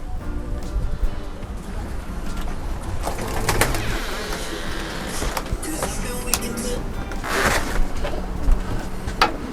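Pigeons in a young bird loft of second-round birds give soft, continuous cooing and calls, with occasional wing or shuffling noises across a steady indoor background.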